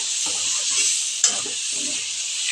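Four eggs go into a pan of fried spice masala, setting off a bright steady sizzle with soft scraping stirs beneath and one sharp clink partway through; no one speaks.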